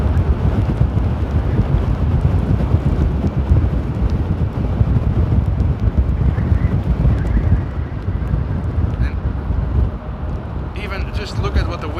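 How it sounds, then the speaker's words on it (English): Strong storm wind during Storm Conall at Amsterdam Airport roars and buffets the microphone as a loud, continuous, gusting rush for twelve seconds, easing slightly near the end. "Just look at what the wind is doing to the 777."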